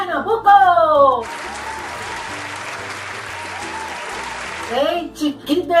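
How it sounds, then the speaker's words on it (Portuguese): A burst of applause for baked pamonha from Pernambuco, a dense clapping sound that sits between spoken lines and runs steadily for a few seconds before a voice resumes. "Aplausos para a pamonha de forno"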